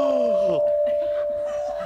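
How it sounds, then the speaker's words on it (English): Small handheld bell chime, like a tuning fork, struck with a snap of the wrist, ringing out as one clear sustained tone that holds steady while people talk quietly over it. "That is a hand chime, and it's like a tuning fork."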